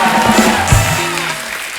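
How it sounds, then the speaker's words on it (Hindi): A brief burst of studio audience applause on a Hindi television comedy show, dense clapping heard for under two seconds with some low thumps mixed in. "जोरदार तालियां बस्सी और रणबीर भाई के लिए।"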